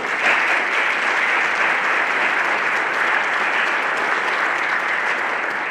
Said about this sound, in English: Could we give the foundation a round of applause?